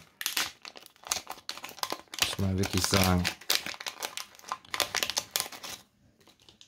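Plastic bags of Lego parts for a Docking Bay build crinkle loudly and briefly while they are opened, under someone speaking German at close range.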